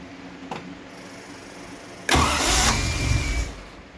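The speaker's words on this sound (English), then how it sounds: "I want to see if the engine actually turns over" A 1974 Triumph TR6 engine cranks over on its starter and begins to fire unevenly, a loud broadband burst lasting about a second and a half after a short click, with no talk.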